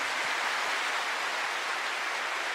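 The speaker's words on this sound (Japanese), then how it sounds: "ぜひ改めて大きな拍手をお願いします。" Dense, steady applause from a large arena crowd at an all-star farewell game, a continuous hiss-like wash of clapping with no breaks.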